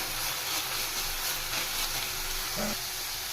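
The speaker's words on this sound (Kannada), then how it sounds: "ನಂತರ ಇದಕ್ಕೆ ನಾನು ಬೀನ್ಸ್ ಮತ್ತು ಕ್ಯಾರೆಟ್ನ ಸೇರಿಸ್ತಾ ಇದ್ದೀನಿ. ಇದನ್ನು ಚೆನ್ನಾಗಿ ಫ್ರೈ ಮಾಡ್ಕೋಬೇಕು." Beans and carrots frying in a pan for sweet corn fried rice give a steady, close sizzling hiss that runs unbroken throughout, with a faint low hum underneath.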